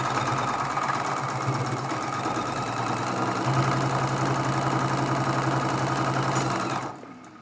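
A sewing machine runs steadily at speed while quilt pieces for a Dresden Plate block are stitched, giving a close, continuous whirring hum with a fast rhythmic needle clatter that cuts off near the end.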